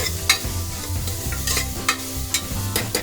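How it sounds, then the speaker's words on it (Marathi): Crushed garlic frying in a pan while being stirred, with a steady close sizzle broken by sharp scraping strokes of the spoon at an irregular rhythm, no voices. "ही ठेचलेली लसूण सगळा भाजून घ्यायचा थोडाच भाजायचा"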